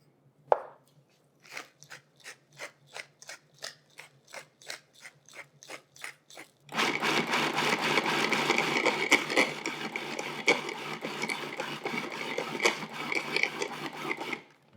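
A food processor chopping fresh basil for pesto gives short, evenly spaced pulses of whirring. After that, the machine runs continuously with a loud, steady grinding whir until the end.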